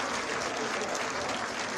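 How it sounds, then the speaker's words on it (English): An audience claps at a middle school 8th grade recognition ceremony held on a field, a steady, moderately distant wash of applause throughout. "Let's give a nice round of applause to Ms. Neville,"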